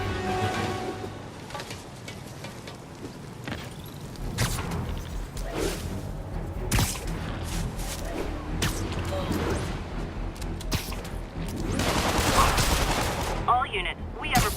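Gunfire fills a Spider-Man video game scene: rapid bursts and single shots crack among whooshes and crashes at moderate loudness, with voices and busy game effects mixed underneath.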